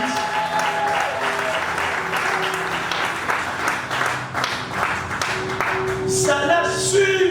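A church congregation applauds steadily and loudly, dense clapping from many hands filling the space throughout, with a faint voice and some tonal sounds beneath.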